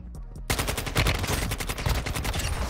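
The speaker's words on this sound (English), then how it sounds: "I'm getting shot from behind." Rapid automatic gunfire from the Warzone Mobile video game, a dense sustained burst of loud shots starting abruptly after a short quieter lead-in and continuing to the end.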